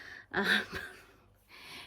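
A small dog asleep under a table snores nearby, giving two soft, rasping breaths separated by a short pause.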